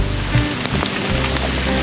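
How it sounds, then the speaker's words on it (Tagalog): Heavy rain pours down steadily during a motorcycle ride on a Yamaha PG-1, a loud continuous wash of drops and wind noise with faint passing bumps and no talk. "Biglang lumakas yung ulan"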